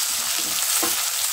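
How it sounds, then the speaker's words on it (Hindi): Curry leaves, onion and green chili frying in a pan for a dal palak, a steady broadband sizzle holding throughout with a brief stir at the midpoint. "अभी हम इसमें कड़ी पत्ता, प्याज, हरी मिर्च, इस सब कुछ डालेंगे"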